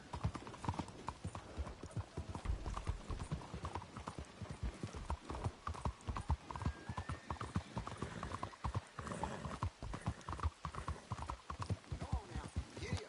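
Horse hooves clip-clop in Red Dead Redemption 2 as the horse is ridden, a steady, close rhythmic patter that continues throughout under occasional talk.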